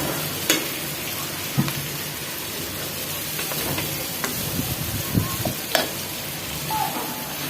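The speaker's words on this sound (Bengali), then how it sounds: "এখানে পরিমাণ মতো তেল দিয়ে পেঁয়াজ দিয়ে দিলাম" Onions frying in oil in a home kitchen pan, a steady soft sizzle and hiss with occasional stirring clatters and scrapes, close and unaccompanied by talk.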